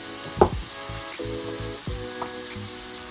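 Onions sizzling in a hot pan as they caramelize for a Philly cheesesteak, a steady frying hiss under intermittent clanks and scrapes of stirring, close and moderately loud, with no talking.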